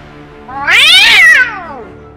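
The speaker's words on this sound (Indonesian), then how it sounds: "Raungan kucing hutan raksasa bisa terdengar hingga puluhan kilometer" A loud, drawn-out yowl of a wild cat rising and falling in pitch, heard close and alone for about a second.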